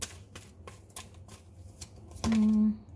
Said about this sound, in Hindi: एक कार्ड और ले लेते हैं।